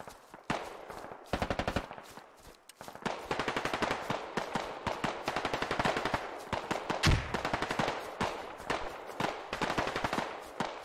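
Gunfire in the Squad video game: long runs of rapid automatic shots with clipped, evenly spaced reports, sometimes briefly paused, then resuming at steady moderate loudness, with one heavier boom partway through.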